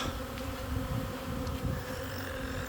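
A swarm of native honeybees arrives at a rural house on a hillside, a dense steady buzzing hum filling the air with no talk.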